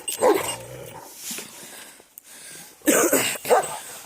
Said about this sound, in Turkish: Köpektir. Köpekler saldırıyor.